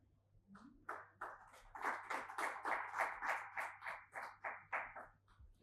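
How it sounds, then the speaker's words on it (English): A sparse handful of people at a rail technology forum clap to welcome a speaker, producing distinct, fairly even individual claps in a quiet room, with a short voiced sound at the start. "Please welcome him with a round of applause."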